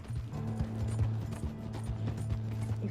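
Galloping horse hooves in Red Dead Redemption 2, with steady rhythmic thuds and a continuous low mechanical drone underneath, heard close and fairly loud throughout with no talking.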